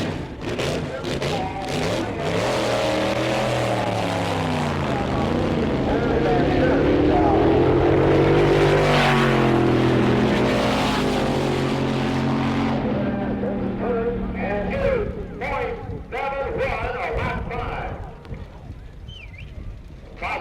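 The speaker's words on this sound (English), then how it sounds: "Mickey Thompson's twin engine rail" Twin-engine drag racing rail car from 1963 roars past at the drag strip, a loud sustained engine howl that rises to a peak near the middle and then fades as it pulls away.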